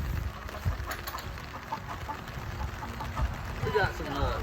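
Chickens cluck in irregular bursts amid a noisy, busy background, with some human voices mixed in.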